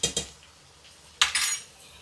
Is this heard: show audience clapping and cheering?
no